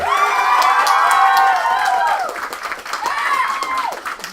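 A classroom of students cheers and whoops to welcome a guest, a loud crowd roar with shouting voices that swells, dips briefly, then rises again.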